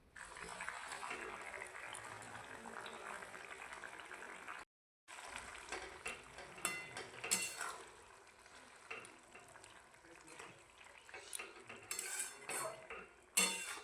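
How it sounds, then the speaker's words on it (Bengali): A utensil stirs fried eggs into boiled potatoes in a pan, making steady metallic clinks and scrapes against the pan with a brief silent gap partway through. "কিছুক্ষণ নাড়াচাড়া করার পর ভেজে রাখা ডিমগুলো ওর মধ্যে অ্যাড করে দিয়েছি"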